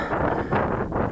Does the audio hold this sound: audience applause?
no